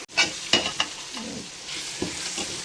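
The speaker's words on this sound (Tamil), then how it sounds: "தக்காளி வணங்கட்டும் தக்காளி நல்லா வணங்கினதுக்கப்புறம்" Tomatoes fry in a pot for mutton biryani, a low continuous sizzle broken by several distinct stirring scrapes and knocks of a utensil, close and fairly quiet, with no talking.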